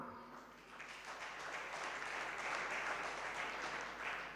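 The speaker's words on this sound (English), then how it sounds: "A round of applause for everyone." Sustained applause from an audience at the close of a day-long organ transplantation conference session in Tanzania, a dense, even patter of many hands that swells slightly and holds steady throughout.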